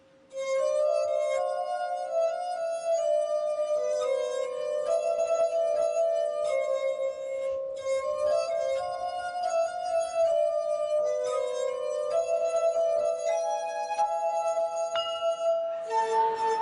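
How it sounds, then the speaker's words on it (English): Tuned glasses ring out in a glass orchestra performance at a TV chat show, sustained pure bell-like tones overlapping in a flowing melody, loud and clear with no talking. "That is orchestra of glass."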